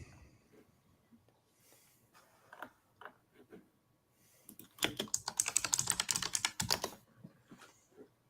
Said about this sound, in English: I can now hear your keyboard.